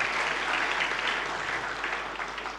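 Church congregation applauding at a Good Friday service, a continuous dense patter of many hands clapping, fairly even and slowly easing off toward the end.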